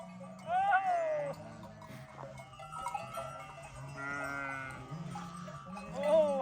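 A flock of sheep moves along behind a shepherd on a misty mountain, with repeated bleats rising and falling near and far, a cowbell clanking now and then, and someone talking over the animals.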